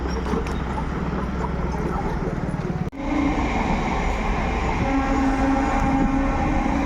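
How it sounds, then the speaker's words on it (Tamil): An Indian Railways train rumbles past close by near Kilambakkam, Chennai, with steady rhythmic clatter of wheels on rails, a brief gap, then continued rolling noise with a tonal hum. "ட்ரெயின் போகுது பாரு"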